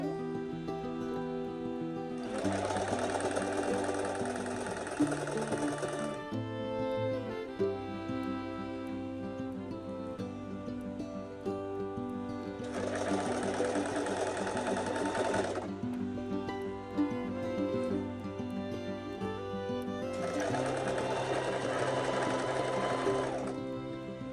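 A sewing machine stitches ribbon onto a Native American ribbon vest in three steady whirring runs of several seconds each, separated by quieter pauses, close and clear over faint background music.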